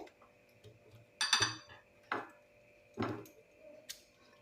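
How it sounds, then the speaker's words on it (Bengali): A knife chopping firm guava into small pieces on a board, a few separate sharp clacks spaced about a second apart against a quiet background. "ছোট ছোট করে কুচি কুচি করে পেয়ারাটাকে কেটে নিতে হবে"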